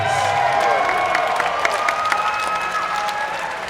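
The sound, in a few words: crowd applause and cheering for fighters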